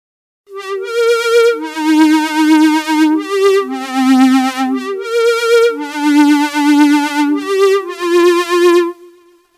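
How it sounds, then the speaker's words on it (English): A vibrato lead synth patch built in the Serum synthesizer plays a slow retro melody of bright, buzzy notes with a pronounced wobbling pitch, each note ringing out clearly in short phrases separated by brief gaps. "So that's the sound of this vibrato lead that I'll be teaching you how to make inside this video."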